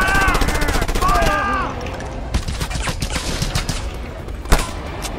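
Rapid automatic gunfire in Just Cause 2, a sustained burst of closely spaced shots with a loud crack near the end, under excited shouting at the start.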